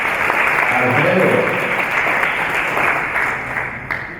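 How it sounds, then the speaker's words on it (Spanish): Steady audience applause at a film club session, dense and loud from start to finish, tapering slightly near the end, with some voices mixed into the crowd. "fuerte aplauso para Alfredo"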